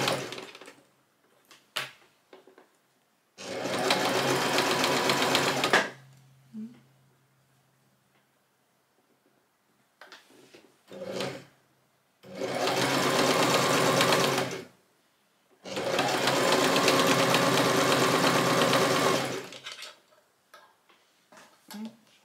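A sewing machine stitching sweatshirt fabric in three loud, steady bursts of rapid whirring, separated by quiet pauses with small clicks and handling noises.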